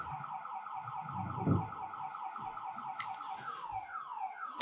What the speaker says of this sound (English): The fucking alarm's going off again.